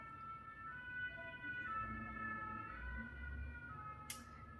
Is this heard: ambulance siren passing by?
yes